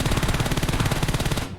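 Rapid automatic gunfire from an M416 assault rifle in the PUBG Mobile video game, a steady rattling burst of evenly spaced shots, loud and close, with no talk over it.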